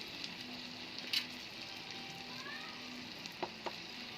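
Chili powder and turmeric frying in oil for Bengali mustard hilsa, a soft continuous sizzle with a few sharp spatters and stirring taps near the end, no talking.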